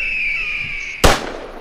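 A single sharp gunshot goes off in a VR quick-draw cowboy duel game, a loud close bang that follows a steady tone and then rings off briefly.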